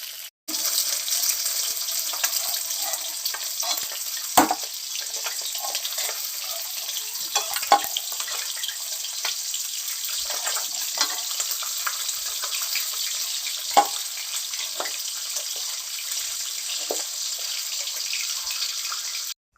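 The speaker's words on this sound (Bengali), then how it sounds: "মাছটা ভাজার পর যে তেল ছিল ওর মধ্যে আমি বেরেস্তাগুলোকে ভেজে নিচ্ছি।" Onions fry into crisp beresta in oil left over from frying catla fish, giving a steady bright sizzle throughout with occasional stirring clicks and no voices.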